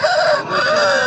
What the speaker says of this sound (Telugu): మా పుంజు సార్ కింద దించండి.